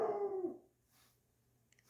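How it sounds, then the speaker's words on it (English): A dog nearby gives one short, whining bark at the start, followed by near silence and a faint soft click at the end. "it's a dog over there"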